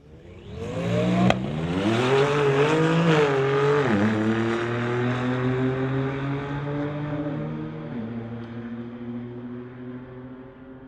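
A 2009 BMW and a 2020 Infiniti launching in a street-legal drag race, engines roaring loudly and rising through gear changes before fading slowly as the cars pull away down the strip.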